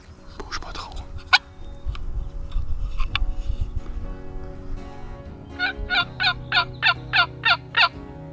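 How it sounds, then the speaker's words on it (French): A wild turkey gobbles during a spring hunt in Québec: scattered calls early on, then a loud, close run of about eight rapid, evenly spaced gobble bursts over low outdoor rumble. "C'est un beau dindon."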